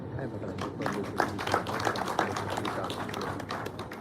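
An audience at a live-streamed event claps steadily, a dense, even patter of many hands continuing for several seconds at moderate distance, with no voices standing out.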